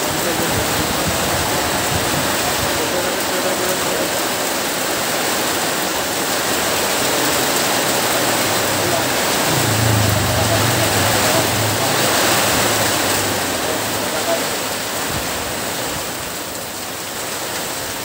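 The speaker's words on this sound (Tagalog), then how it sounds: "Lakas ng ulan mga idol." Heavy rain pouring down in a loud, dense, continuous roar close by, swelling slightly midway before easing a little, with no clear talking over it.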